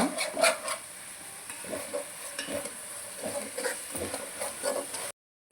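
Masala fries in oil while being stirred for a Sunday egg and fish curry, with a close sizzle broken by repeated scraping and clattering strokes of a spoon against the pan, then a sudden cut to silence.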